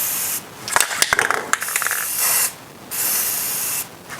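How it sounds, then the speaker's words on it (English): A spray can of clear coat hisses in two long, steady bursts onto Ducati Diavel motorcycle parts, close and loud, after a stretch of rattling, clicking handling noises. "we're going to spray some clear coat"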